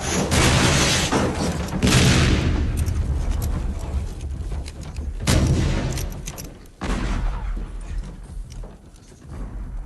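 A sailing ship's cannons fire a volley as a series of heavy, close booms with rumbling tails. The blasts come in quick succession and dominate the moment.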